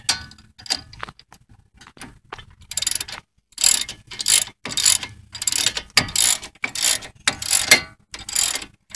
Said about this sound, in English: We are getting the bottom bolt on the caliper.